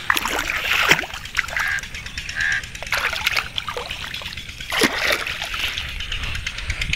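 Irrigation water flows and splashes continuously into a field, with irregular splattering bursts and geese or ducks honking nearby.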